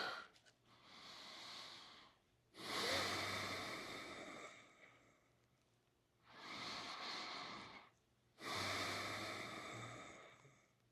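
Slow, deep breaths during a stretching exercise: four long airy inhales and exhales in a steady rhythm, close and fairly loud, with no talking.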